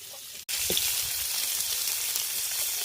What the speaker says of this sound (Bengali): মাছ ভাজা হয়ে গেছে, এবার মাছগুলোকে তুলে নেব।